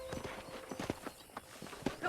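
Horse hooves clip-clop on a ranch in the Red Dead Redemption video game on Xbox 360, a steady rhythmic trot of soft thuds, faint and mid-distance, with light background game sound.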